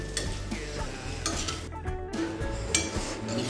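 Bitter gourd fry with garlic and chilli powder is stirred in a pan just after curry leaves go in, a steady sizzle under scraping, clinking spoon strokes against the pan, close and fairly loud, with no talking.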